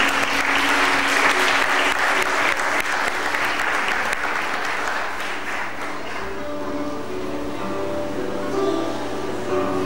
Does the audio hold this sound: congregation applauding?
yes